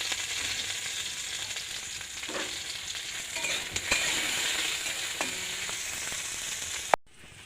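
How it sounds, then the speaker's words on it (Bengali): Okra frying in a pan until reddish-brown, a steady close sizzle and crackle of oil running throughout with a few faint stirring clicks, no voices. "ঢ্যাঁড়সটা একটু লাল লাল করে ভেজে নেব"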